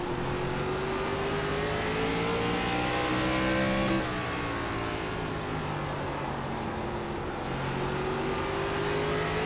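An ARCA Menards Series stock car in iRacing at Southern National, its engine droning loud and close with a steady high whine that shifts pitch midway as a car passes and the revs change.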